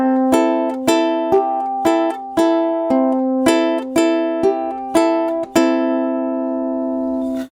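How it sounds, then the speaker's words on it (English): A ukulele plucked by finger alternates between the third and fourth strings in an even, repeating pattern, about a dozen clear, close notes ringing out alone with the last one left to sustain. "we go down with the third string first, and then down with the fourth string next"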